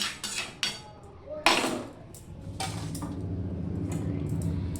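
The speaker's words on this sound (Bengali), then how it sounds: "এবার আমি একটু ঢাকা দিয়ে দিলাম 2 মিনিটের জন্য।" A lid is set down on a cooking pot with a few sharp metallic clinks, followed by a low, steady simmering rumble underneath.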